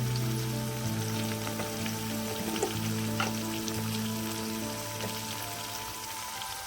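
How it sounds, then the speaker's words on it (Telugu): Tempering spices sizzle in hot oil for a fenugreek leaf and potato curry, a steady close crackle over a low hum with a few small pops, and no talk. "కొంచెం తాలింపు వేస్తున్నానండి."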